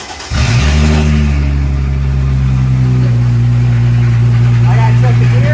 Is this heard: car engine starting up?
yes